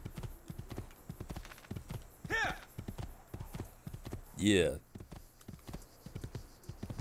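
Horse hooves clip-clop at a steady trot in Assassin's Creed 2 around Tuscany and San Gimignano. The rhythmic beat runs under someone talking over it, with brief louder effects.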